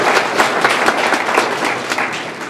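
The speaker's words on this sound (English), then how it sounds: "So let's give them all a round of applause" Crowd applause at a community planning charrette meeting: many hands clapping in a dense, steady round that tapers slightly at the end.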